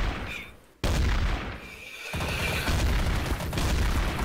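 Shotgun blasts in a chaotic online video game match, loud booming shots layered over constant game noise and frantic action, with no clear talk.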